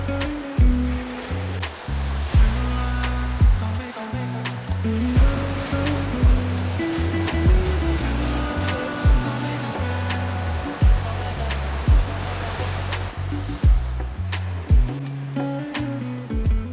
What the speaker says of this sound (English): a beach where all you can hear is the sound of waves rolling in